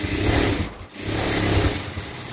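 A sewing machine stitches a blouse, its loud close motor whirring steadily with a brief pause in the middle before running on again.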